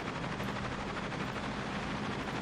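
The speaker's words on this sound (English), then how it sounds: "Alright, I've got 2 choppers here." Helicopter rotors in the video game Cepheus Protocol, a steady dense whirring roar that fills the whole moment at constant loudness, with no break or change in rhythm.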